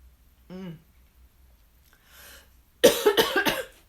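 A person coughs in a quick burst of several harsh coughs near the end, close by, after a short voiced sound and a breathy exhale in quiet.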